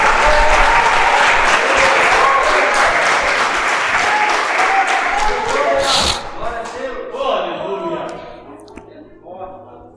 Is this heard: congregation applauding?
yes